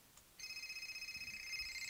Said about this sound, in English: you can see that there's a ringtone